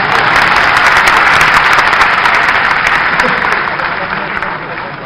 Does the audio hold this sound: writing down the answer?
no